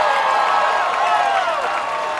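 A crowd cheers and applauds at a Sasuke obstacle course event, a loud, sustained roar of clapping and shouting from a large audience, with a commentator talking over it.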